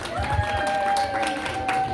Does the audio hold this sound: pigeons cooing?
no